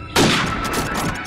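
A single loud gunshot in Call of Duty 4 fired through a wall, a sharp close blast with a brief ringing tail and no talking.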